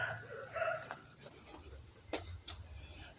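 A dog whimpers and yips softly a few times, with small scuffling and jingling sounds nearby in a quiet space.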